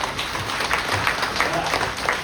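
Applause from an audience at a company presentation, a dense steady patter of many hands clapping at close range, continuing evenly for a couple of seconds with no voices over it.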